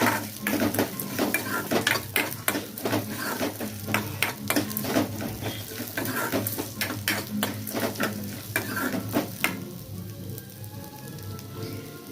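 Cut ginger pieces fry briskly in a pan for chutney, with a loud close sizzle and rapid repeated scraping and clinking of a spoon as they are stirred, easing toward the end.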